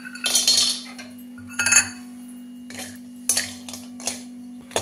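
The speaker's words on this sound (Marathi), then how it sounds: "आता आपण ही दालचिनी भाजून घेतोय." Cinnamon sticks being dry-roasted in a pan for a Kolhapuri onion-garlic masala, giving a handful of scattered clinks and scrapes of metal against the pan over a steady low hum.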